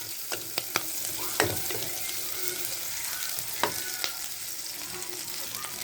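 Onion fries in a pan as it is stirred, giving a steady hiss of sizzling with sharp scraping clinks of the utensil at irregular moments, fairly close and without speech.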